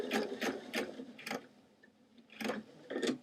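Sewing machine stitching in reverse on jeans, a quiet, close series of distinct mechanical thumps, four evenly spaced, a pause, then two more.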